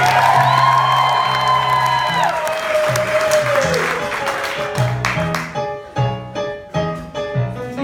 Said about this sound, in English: Goodbye to St. James and applause.